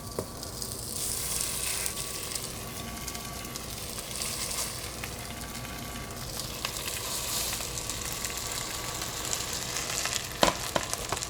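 Fish sears in a pan on a Fisher & Paykel induction cooktop with a steady, close sizzle that runs throughout. Occasional utensil taps and clinks sound near the end, and no one speaks.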